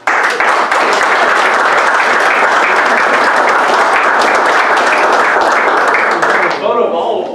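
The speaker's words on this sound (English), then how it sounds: "How about a round of applause for these?" A township board of supervisors meeting audience gives a sustained round of applause, loud and dense, ending abruptly before voices come in.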